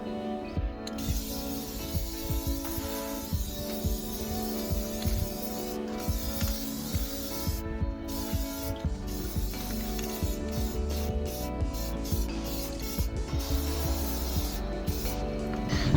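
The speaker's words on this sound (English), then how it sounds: "this is cooled off to enough so that I can spray paint those" Continuous hissing of an aerosol spray paint can, long steady bursts with brief pauses, fairly close and loud.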